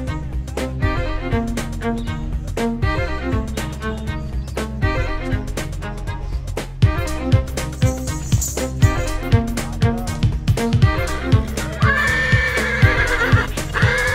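Horses at a large horse fair in Akluj, with Punjab, Haryana and Rajasthan breeds, neigh and whinny repeatedly amid a dense, loud crowd of animal and background noise, with clip-clop hooves in the mix.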